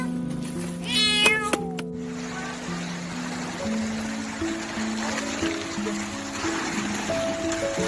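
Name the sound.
cat crying while trapped underground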